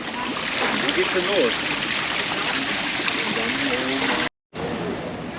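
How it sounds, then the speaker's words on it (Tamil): Water rushes and gurgles continuously close by, a steady broadband flow with a brief dropout near the end and faint voices mixed in. "தண்ணி பாயிற மாதிரி"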